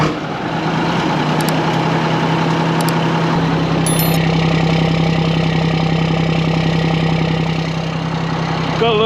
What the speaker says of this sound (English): Gotta love a Cummins. Oh, she always starts well.